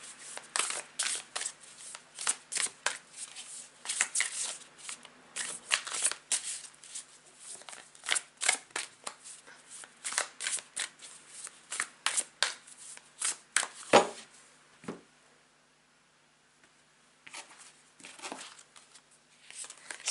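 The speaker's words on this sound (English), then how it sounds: "as I shuffle my cards" Tarot cards being shuffled by hand, close and fairly quiet, with repeated crisp riffling bursts and flicks for most of the span, a short silent pause, then a few more shuffles.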